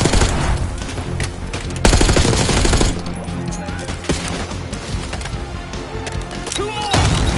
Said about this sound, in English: Give him some cover fire, Case!